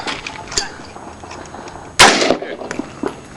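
Two sharp AR-15 rifle shots outdoors at a shooting range, the first fainter and the second a loud, close blast with a brief ringing tail.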